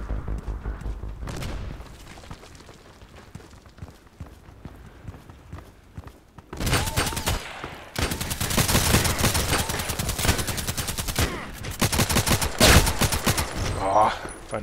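Rapid assault-rifle fire in the shooter game Contract Wars, loud bursts of repeated shots from about six seconds on, following a quieter stretch with a few isolated pops, with talk over the action.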